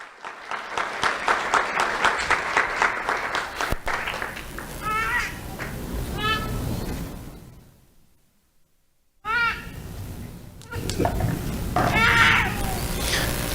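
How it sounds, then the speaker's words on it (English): Applause and cheering from the crowd at a community awards ceremony honoring an elementary school student, loud at first, then breaking into a pause before resuming with whoops and shouts. "Let's have a round of applause for Giselle Duenas Cordova."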